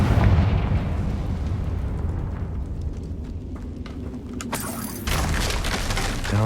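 Confringo fire spell blasting in Hogwarts Legacy, a loud booming explosion that rumbles and fades, followed by a second sharp burst of debris near the end.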